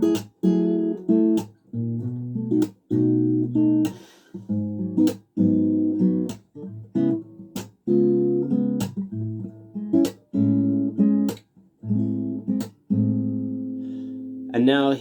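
Acoustic guitar plays the verse of a song, steady strummed chords in repeated phrases with brief pauses between them, close and clear with no talking.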